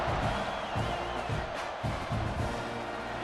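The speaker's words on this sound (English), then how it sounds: "this crowd is buzzing after that last score" A stadium crowd in a college football video game, Auburn at Texas A&M, keeps up a constant buzzing roar with faint cheers rising through it.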